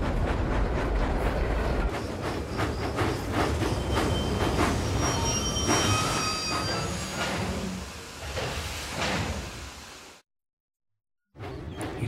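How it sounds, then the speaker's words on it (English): A supply train rolls along the rails toward the docks, with a loud, steady rumble and wheel clatter throughout and faint squeals, then a brief silence before the running noise resumes. "One afternoon, Donald took a supply train to the docks."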